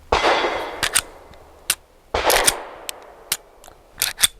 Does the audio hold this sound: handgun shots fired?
yes